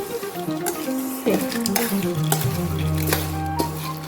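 A spoon stirs and scrapes through sambar in a cooking pot after the gas is turned off, making steady close clinks and scrapes over a low, continuous hum.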